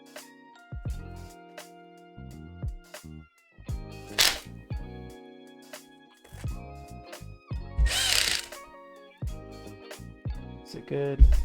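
A power drill whines in short bursts, starting and stopping repeatedly while screws are tightened into a Phanteks Evolv mATX PC case, close and loud with brief pauses and a small clatter between runs.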